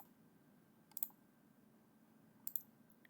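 Two quick mouse clicks sound faintly over a quiet room hum, each a tight double tick, about a second and a half apart.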